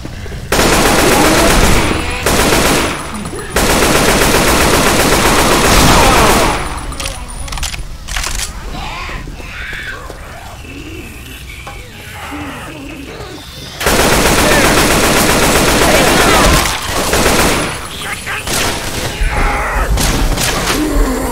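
Long bursts of loud, rapid gunfire and shotgun blasts come from a zombie video game, with a quieter stretch in the middle where game sounds and scattered shots continue before the heavy firing resumes.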